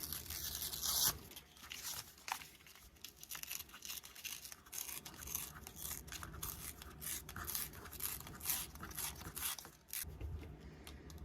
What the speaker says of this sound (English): I think I'm gonna tear it on both sides here